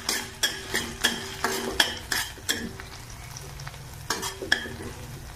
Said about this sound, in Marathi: आता आपण 2 छोट्या बारीक चिरलेल्या मिरच्या टाकूया